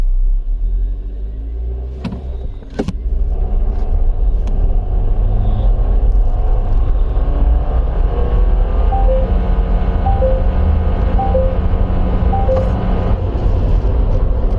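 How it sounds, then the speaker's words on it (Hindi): A Deepal S05 car pulls away under hard acceleration, a loud, steady low rumble with a rising electric whine running continuously, with a brief thump near the start and no voices. "the moment I push the accelerator pedal it goes of like this"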